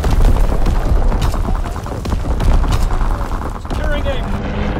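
During a strafing run in the game Shipment 1944, dense, loud gunfire and booming explosions roll on continuously, with radio-style voice callouts mixed in.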